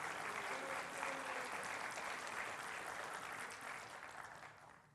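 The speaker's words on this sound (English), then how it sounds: "Please join me in a round of applause for our colleagues who were" Steady, even applause fills a college convocation hall for promoted colleagues, with dense clapping at a moderate distance and no voices over it.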